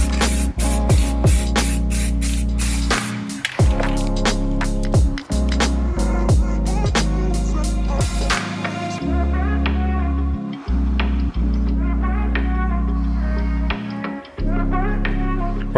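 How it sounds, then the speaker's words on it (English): An aerosol spray can coats a Ford Mondeo ST subframe during a polybush install, loud close hissing bursts broken by brief gaps and taps, steady and unbroken between releases, no talking. "I just kind of kept spraying it and spraying it and spraying it until the can was empty"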